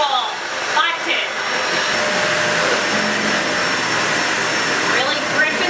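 Vacuum cleaner with its brush roll engaged runs steadily on Berber carpet, a loud continuous whirring drone with brief faint voice fragments near the start and end.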